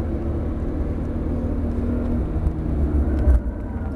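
Porsche Turbo S engine droning steadily on a race track, a loud continuous low rumble with little change and a brief surge near the end.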